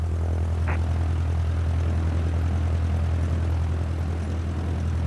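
Cessna propeller aircraft taxiing in Microsoft Flight Simulator, a steady loud droning engine hum with a constant low propeller tone, no voices.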